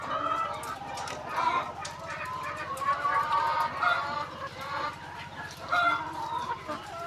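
Laying hens clucking in a poultry coop, many birds murmuring and chirping together at moderate distance with a steady flock hum, brief louder calls rising now and then.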